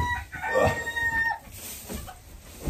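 A rooster crows once, loud and fairly close, a drawn-out call with a couple of clucks from nearby chickens on a farm around it.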